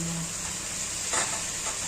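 Spinach being fried and stirred in a pan, a steady soft sizzle running throughout with a brief louder scrape of stirring near the middle, close up and alone.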